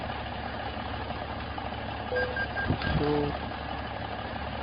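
A Kenworth T800 truck mod in a driving game idles steadily with a dense low rumble. Short beeping tones sound near the middle, and one brief spoken word cuts in.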